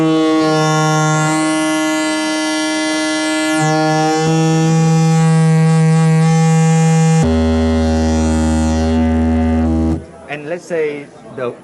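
A Quanalog Boubou complex VCO synthesizer drones loudly with a rich buzzing tone, its pitch stepping between sustained notes as the wave folder shapes the timbre, then someone speaks briefly over it at a busy Superbooth trade show.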